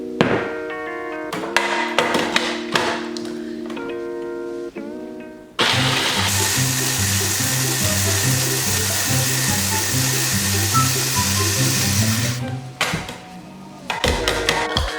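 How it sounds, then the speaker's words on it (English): A food processor grinds ginger snap cookies into crumbs for a vegan white truffle pumpkin cheesecake crust, a loud, steady whirring roar running for several seconds between brief stops and clatter. "I'm going to add my ginger snap cookies into the food processor"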